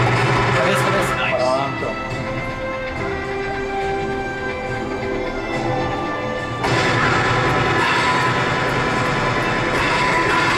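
Rapid gunfire from a dinosaur park shooting video game, blasting at pterosaurs, with booming game effects and music running throughout and growing louder partway through, under excited talk from players.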